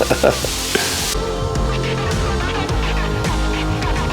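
Burger buns toasting on a Blackstone griddle beside bacon, giving a steady soft sizzle with a few clicks and scrapes, close and continuous.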